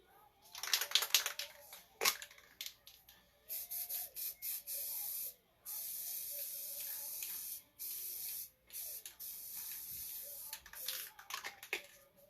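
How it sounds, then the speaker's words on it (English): Spray paint hissing onto model windows in repeated close bursts, each a sharp aerosol spray lasting a second or two, separated by brief pauses and small handling clicks. "let me pop these windows with some spray paint real quick"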